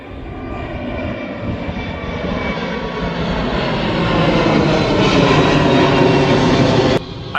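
A fixed-wing aircraft engine near the Anchorage airport gives a loud, sustained roar that slowly builds over several seconds, with no one talking.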